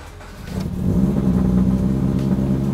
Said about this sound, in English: And you're ready to start the engine.